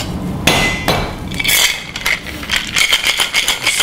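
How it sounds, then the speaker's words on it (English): Ice rattling hard inside a cocktail shaker for a spiced Christmas cocktail at a London bar, a run of sharp, loud clattering bursts that start in uneven jolts and settle into a fast, steady shaking rhythm. "This is a shaken cocktail, so take some ice,"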